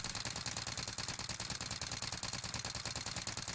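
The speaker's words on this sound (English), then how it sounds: "We're just going to shoot." Automatic rifle firing in the Warzone video game, a steady, rapid stream of shots in one continuous burst lasting several seconds, evenly spaced and sharp, with no talking.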